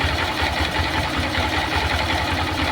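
A gas motorcycle engine runs after a carburetor adjustment, giving off a steady, fast pulsing drone at close range and even loudness, with no voices over it.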